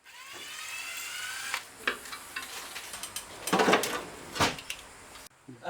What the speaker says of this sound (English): Undo the bolts and it comes off